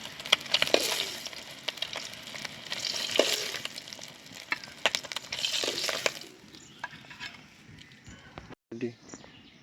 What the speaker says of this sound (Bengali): ডিম আমার ভাজা হয়ে গেছে এরকম লাল লাল করে